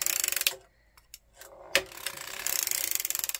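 Sock knitting machine crank turned by hand, giving rapid rattling ratchet-like clicks that pause briefly, then resume in a steady mechanical clatter, close and fairly quiet with no talking.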